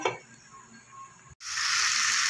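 Masala and potatoes fry in a pan: a quiet start with a faint stir, then an abrupt, loud, steady hissing sizzle that carries on close up without any voices.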